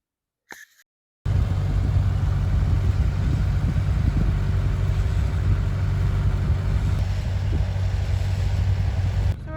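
A sailboat motors under engine in calm, windless conditions toward Copeland Island Marine Park near Desolation Sound, its steady low drone running loud and unbroken after a brief quiet start.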